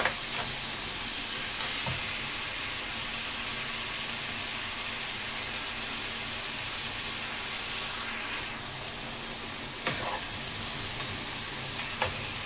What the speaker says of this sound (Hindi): अब लहसुन की खुशबू अच्छी तरह पहले तेज़ आएगी, फिर फ्राई होना शुरू हो जाएगी।